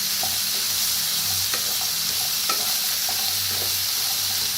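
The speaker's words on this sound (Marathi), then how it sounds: "चांगलं मिक्स करूया।" Bitter gourd pieces stirred in a hot frying pan, a continuous sizzle broken by a few spoon scrapes and knocks against the pan.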